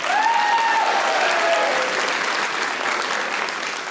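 Dense, steady clapping from a studio audience at a talk show fills the space, loud and continuous, with a brief vocal tone near the start.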